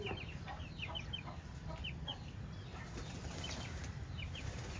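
A farm-raised pigeon bathing in a water basin flaps its wings in short, quiet bursts of fluttering, with soft bird calls in the background.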